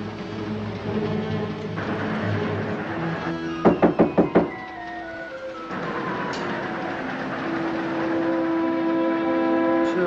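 Five sharp knocks land in quick succession on a door in an old colorized horror film, loud and close, set against a sustained orchestral music score.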